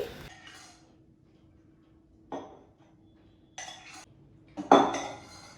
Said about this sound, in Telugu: ఇప్పుడు వేరే స్టవ్ మీద ఒక ప్యాన్ పెట్టుకొని ఇందులోకి 2-3 స్పూన్లు నెయ్యి వేసుకోవాలి.